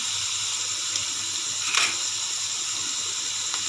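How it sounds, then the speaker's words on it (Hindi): Spinach frying in a pan for palak gosht, a steady hissing sizzle throughout with one brief louder crackle midway and a faint tap near the end, no talk. "अभी 5 मिनट इसको और अच्छी तरह फ्राई करेंगे"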